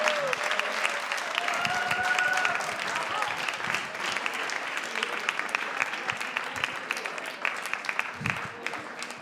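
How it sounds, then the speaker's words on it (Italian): A comedy show audience in Italy claps for a comedian, a sustained round of applause from a live crowd with a few voices mixed in, easing off gradually toward the end. "un grande applauso, Sandro Canori"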